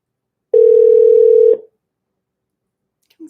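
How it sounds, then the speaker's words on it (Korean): A single steady telephone tone sounds for about one second while a phone call is being placed, then cuts off into near silence. "그럼 지금 한번 전화를 드려볼게요"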